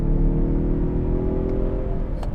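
Car engine pulling hard under full acceleration during a 0-60 run, a loud sustained growl rising in pitch with a brief shift-like break near the end, no talk.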